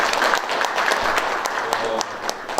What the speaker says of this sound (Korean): 힘찬 박수를 부탁드립니다